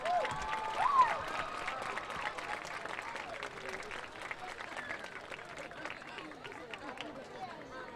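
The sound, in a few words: applause from football game crowd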